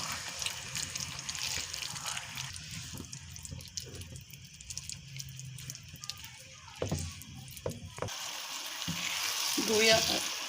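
Vermicelli with raisins and coconut cooking in a pan, a close, steady frying sizzle with scraping stirs and clatter, growing louder toward the end, with no talk.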